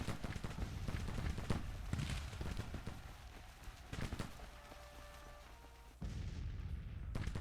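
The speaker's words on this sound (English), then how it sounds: "Between all the cannon fire and just the direct musket fire" Cannon and musket fire in the Civil War strategy game Grand Tactician, a continuous rumble of distant artillery booms and crackling gunfire, steady and dense throughout, shifting in tone near the end.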